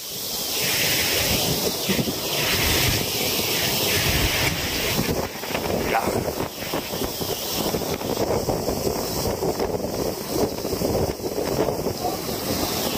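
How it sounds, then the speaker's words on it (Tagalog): Strong typhoon wind roars and buffets the microphone for a long stretch, gusting in surges over a constant rushing background. "Nakatakot yung hangin. Lakas."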